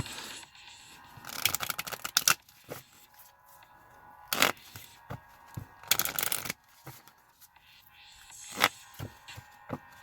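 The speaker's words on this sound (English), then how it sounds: "Shuffle, shuffle, shuffle." A deck of cards is shuffled by hand for Gears of War: The Card Game, making several crisp riffling bursts with short quiet gaps, close and fairly loud, and no talk.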